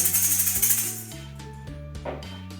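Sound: maracas shaking

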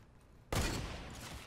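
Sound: hunting rifle shot in the video game Fortnite

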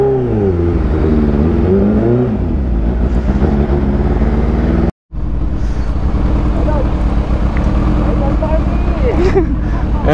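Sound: supercharged Kawasaki H2 motorcycle engine revving

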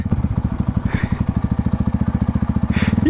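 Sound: motorcycle engine running on a hill road

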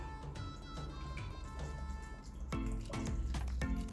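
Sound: dirty engine piston dipped into liquid cleaner

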